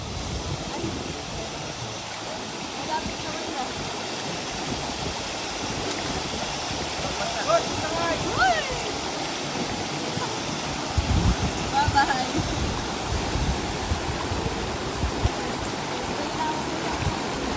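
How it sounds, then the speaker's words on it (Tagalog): Rushing water fills a river crossing on a nature trip to a waterfall, a broad continuous roar with a few faint higher splashes and knocks over it. "Katawid na tayo ng isang ilog."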